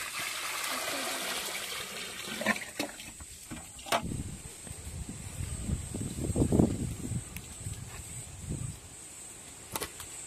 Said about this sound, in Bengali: মাছ কাটা হয়ে গেছে, আমি মাছটা ভালোভাবে ধুয়ে নেব।